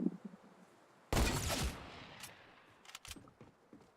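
A burst of rapid gunfire from the video game Fortnite, loud and close, followed by a few fainter, scattered shots in the distance.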